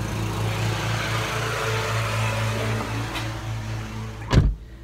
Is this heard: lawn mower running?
yes